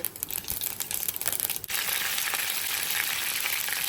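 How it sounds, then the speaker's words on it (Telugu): Mustard seeds and cut dried red chillies frying in hot oil, crackling and popping at first, then a sudden louder, steady sizzle as more goes into the pan, close and without talk. "ఆవాలు వేసుకోవాలి, ఎండుమిర్చి కట్ చేసుకొని వేసుకోవాలి మనము"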